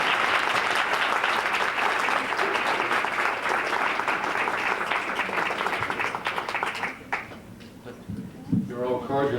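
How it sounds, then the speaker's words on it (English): Audience applause at a university evening event: dense, sustained clapping from a crowd that thins and fades toward the end, with a few voices emerging as it dies down. "if we can have a round of applause for them"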